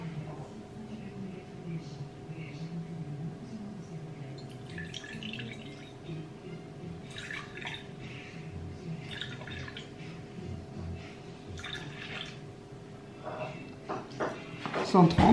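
Milk trickles into a measuring cup on a kitchen scale while donut dough is being prepared. The pour comes as quiet, intermittent splashes and drips over a steady electrical hum, growing louder toward the end.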